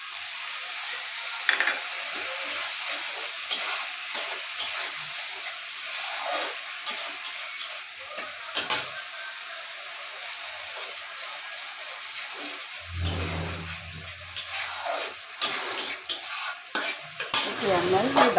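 Okra stir-fried with dried fish in a pan, with a steady sizzle and repeated scraping clinks of a spatula against the metal pan and a few louder knocks.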